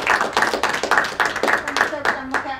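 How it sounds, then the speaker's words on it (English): An audience at a history talk on drought in Bendigo gives a short round of applause after the presentation. The clapping is close and uneven and sounds like a small room. "I'm sure you all join me in giving them a round of applause."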